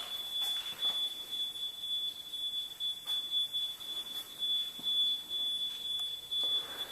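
A thin, steady high-pitched electronic tone from a smoke detector runs unbroken throughout, faint against a quiet room of a house in Melbourne Beach with a few soft knocks.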